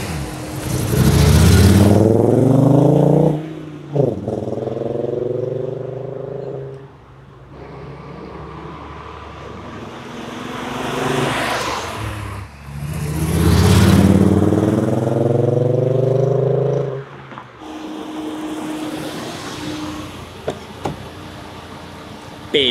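A rough-running VR5 engine in a car built to look like a Golf R32 roars as it drives past, swelling and fading; between passes it idles with a lumpy, irregular note.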